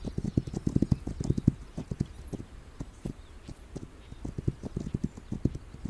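Horses' hooves clip-clop in the video game This Land is My Land, a quick, steady run of close, crisp hoof strikes that thins out midway and then picks up again.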